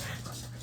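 Dogs scuffling and growling close by in a home, a short burst of snarls and panting under a constant low hum, brief and continuous.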